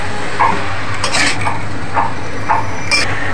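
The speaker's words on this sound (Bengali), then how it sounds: "ফ্রেন্ডস, এবার ভালো করে নাড়িয়ে নেব, ভালো করে মেলাতে হবে এটাকে।" Hakka noodles with vinegar stirred in a pan, with a utensil scraping and clinking against the metal in a steady rhythm of soft, regular strikes about every half second over a faint low kitchen hum.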